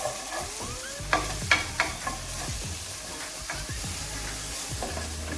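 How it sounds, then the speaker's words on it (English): Pepper stirred into a frying pan for an ackee and white beans dish: close, continuous sizzle with repeated scraping strokes and utensil knocks against the pan in an uneven rhythm. "Pop that in there. Give that a mix."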